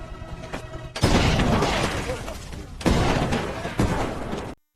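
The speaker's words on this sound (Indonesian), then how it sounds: "ledakan pun terjadi" Land mine detonating in a film scene after a thrown rock strikes it, a loud, dense blast with a roaring debris rumble, followed by a second heavy explosion burst, both close and sustained.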